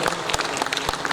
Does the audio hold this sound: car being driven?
no